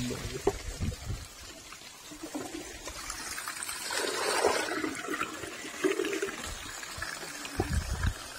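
Water runs and trickles steadily at a village water collection point where people fill containers, with a fuller rush of flow midway and splashy bursts near the end.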